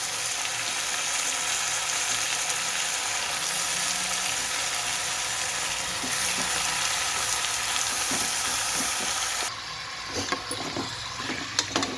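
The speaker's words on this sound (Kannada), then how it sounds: "ನಾನೀಗ ಬದನೆಕಾಯಿ ಸೇರಿಸ್ಕೊಳ್ತಾ ಇದ್ದೀನಿ" Brinjal frying with onions in a cooker for vangi bath gives a loud, steady sizzle that runs unbroken, then drops quieter near the end with a few light stirring clicks.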